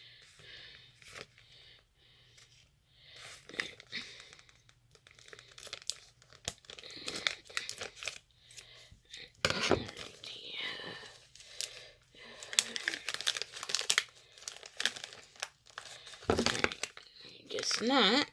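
A plastic package crinkles and tears as scissors work at it during an unboxing, close crackling and snipping in uneven bursts, with a person talking throughout.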